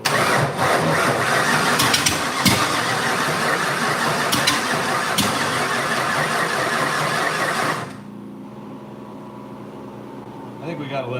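A 1989 Mustang with a 351W V8 cranks slowly on a weak battery, a loud steady churning drone for about eight seconds before cutting off to quieter background with a faint voice.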